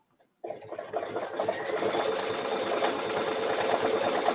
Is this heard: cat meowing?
no